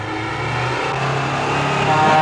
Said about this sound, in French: Un gros SMI qui nous fonce droit dessus.